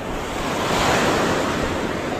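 Large sea waves driven by the northeast monsoon wind roll and crash continuously near the shore, a dense roaring surf with wind buffeting the microphone.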